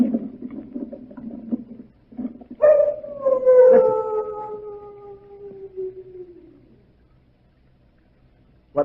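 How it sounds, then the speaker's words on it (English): Large dogs at the Chateau d'Azay give one long, mournful howl that rises and then slowly trails away, after some faint rustling, in a quiet setting. "What was that? Only the dogs, monsieur."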